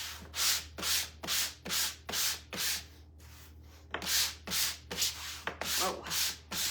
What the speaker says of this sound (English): I am going to take a 220 grit to this and just kind of smooth it out